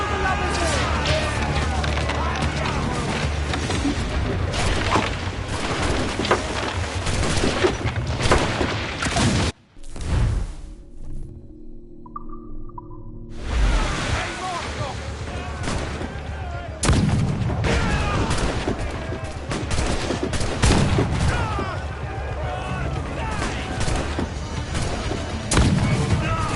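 Ship cannons firing during a naval battle in a video game, heavy repeated booms and crashes with a brief lull midway, mixed with shouted voices and game effects throughout.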